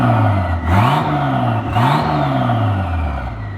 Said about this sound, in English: Turbo sounds good.